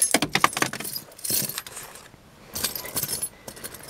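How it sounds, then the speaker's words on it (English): A set of car keys jangling in bursts of bright metallic clinks, with a quiet pause between shakes, close and fairly loud. "Oops, wrong set of keys."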